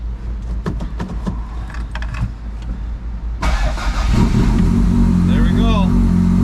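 A Toyota MR2 with a 3S-GTE engine cranks with rapid clicking and churning, then fires and settles into a loud, close idle with a rising whine, with a voice talking early on.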